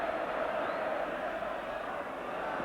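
Coventry City football supporters, some fifteen thousand strong, roar in celebration of a goal during an FA Cup sixth-round tie against Sheffield Wednesday in 1987, a dense, steady wall of crowd noise with no single voice standing out.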